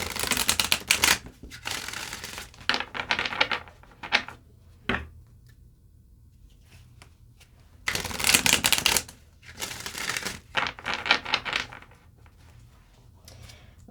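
Energy oracle cards are shuffled in bursts of quick riffling and sliding, separated by quiet pauses, close and crisp with no voices.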